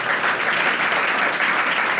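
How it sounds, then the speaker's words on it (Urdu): Audience at a Christian Bible gathering claps in steady, dense applause for a pastor, even and fairly loud throughout with no voices over it. "ان کے لیے تالیاں بجا دے ایک دفعہ۔"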